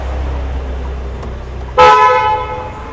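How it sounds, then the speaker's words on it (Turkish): A low car engine idles during a used-car mechanical inspection, then the horn sounds once, loud and close, sustained for about a second before fading back to the engine. "Korna kornada başarılı herhalde. Kornayı da çaldık."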